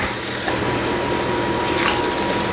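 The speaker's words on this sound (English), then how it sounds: "I have to add a little bit more water." Water pouring into a pot of potatoes, a steady close gushing fill that runs continuously for a couple of seconds with no talking.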